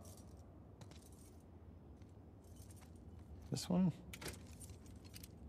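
In The Last of Us Part II, a bunch of keys jangles briefly as they are tried in a lock. The metallic rattle is close and sharp and stands out over a low ambient hum, and a voice speaks briefly.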